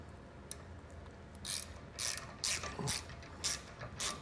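A 14mm ratchet tightens bolts on a B&W Patriot sliding fifth wheel hitch in a 2018 Ram 3500, with short bursts of quiet, close ratcheting clicks repeated about every half second.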